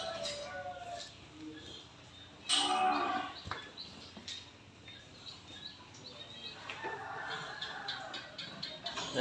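Cattle lowing at a Vietnamese cattle farm, several loud moos close by with a sharp burst partway through, faint bird chirps and a distant voice in the background.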